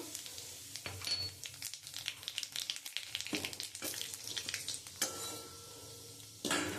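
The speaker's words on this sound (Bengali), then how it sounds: "আমি ওই তেলের মধ্যে একটু কালো জিরে দিয়ে দেবো" Nigella seeds sizzling in hot oil in a pan after bitter gourd has been fried, a close crackling sizzle with intermittent scrapes and clinks of a utensil against the pan.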